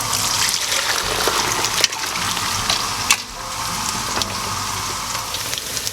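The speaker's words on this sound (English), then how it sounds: "I'm going to sieve the stock to separate the meat." Mutton stock poured through a sieve, a steady rushing splash of liquid that runs continuously, close and fairly loud, with a brief dip partway through.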